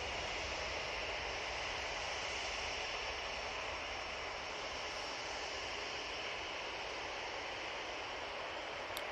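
A TUI Boeing 737 takes off for Fuerteventura, a distant, even jet-engine hiss and rumble sustained at low level with no voices.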